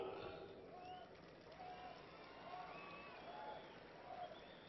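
Crowd applause at a political rally in Solapur for PM Modi, a steady wash of clapping from a large audience with faint voices mixed in, moderately distant.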